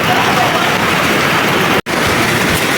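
Torrential typhoon downpour makes a loud, unbroken wash of noise close by, interrupted by one momentary dropout partway through.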